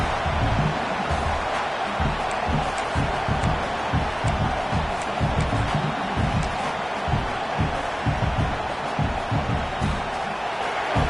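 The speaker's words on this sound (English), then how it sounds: "listen to this crowd noise. This stadium is vibrating" Loud, dense roar of a large college football stadium crowd at SMU vs Texas A&M, a continuous wash of cheering and noise with rhythmic thumping underneath.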